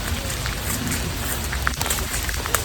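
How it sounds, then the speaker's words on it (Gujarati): Rain falls steadily and fairly loudly over a farm field, a dense hiss with scattered drops tapping nearby surfaces; no one speaks. "ચાલુ વરસાદ છે"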